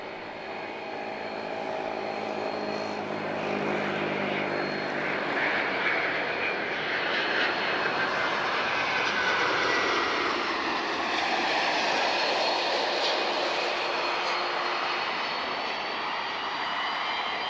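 A TAP Airbus A330neo jet taxis at Lisbon airport, its engines giving a loud sustained whine and roar that shifts slowly in pitch, heard from a distance with no talk.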